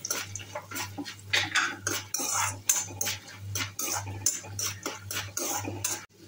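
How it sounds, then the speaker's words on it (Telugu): Peanuts and lentils are stir-fried for spiced puffed rice, a spoon scraping and clattering against the pan in quick, uneven strokes over a low steady hum. "పప్పులు వేసుకొని పప్పులను కూడా బాగా వేయించుకోండి"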